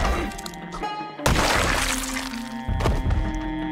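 Heavy banging thuds in the zombie survival game Project Zomboid: two loud, sharp impacts, the first about a third of the way in and a later one, over a steady low game drone.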